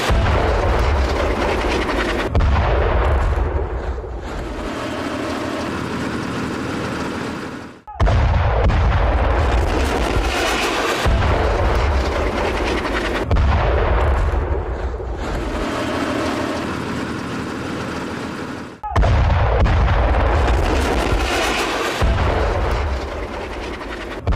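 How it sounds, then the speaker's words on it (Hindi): Bombs strike a Hamas weapons depot in Gaza, heard as a series of heavy, loud blasts, each followed by a sustained roaring rumble that cuts off sharply before the next, repeating about every eight seconds with no voices. "हमास के हथियार भंडार को किस तरीके से बम से उड़ा दिया गया"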